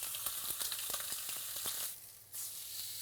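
A rib eye steak (entrecôte) sizzles loudly in a hot pan, a dense steady hiss with small pops that dips briefly near the end, as if the meat is lifted or flipped, then resumes.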